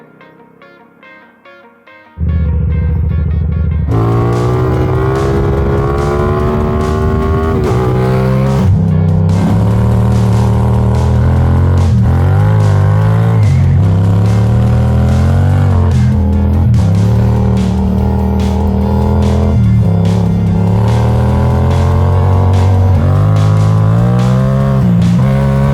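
A Yamaha MT-07 street bike at an adventure rally starts, then pulls away loudly, its engine revving up through a series of gear shifts with rising and dropping pitch.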